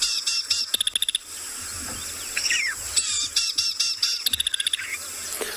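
A small songbird's normal song at a South African safari site, heard as quick trilled bursts of rapid, evenly spaced notes repeating several times, with chirps from other birds and insects in the background and no talking.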